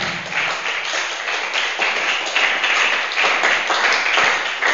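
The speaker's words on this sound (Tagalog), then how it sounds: "Sabay mahina ang palakpak" Light, scattered applause from a church congregation during a sermon, a steady soft patter of many hands lasting throughout without rising to a strong ovation.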